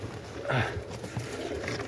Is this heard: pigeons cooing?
yes